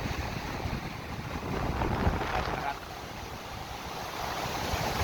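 Large ocean waves during a storm rumble and crash steadily with broad, rushing noise and some wind buffeting, with no clear pause between the waves.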